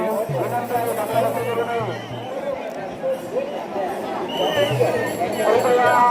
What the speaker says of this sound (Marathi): खूप सारी गर्दी आहे